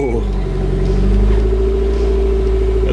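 A Toyota MR2 engine fitted with a new Link G4X plug-and-play ECU fires up and settles into a loud, close, steady idle with a low droning hum.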